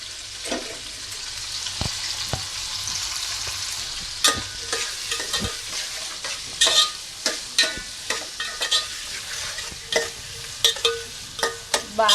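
Potatoes and mixed vegetables fry in a pan for aloo biryani, a steady loud sizzle broken by repeated scraping clacks of a stirring spoon.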